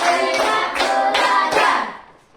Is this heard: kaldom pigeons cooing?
no